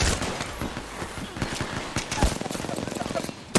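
Apex Legends arena match gunfire, rapid automatic bursts and scattered single shots crackling in quick succession, moderately loud under a commentator's voice.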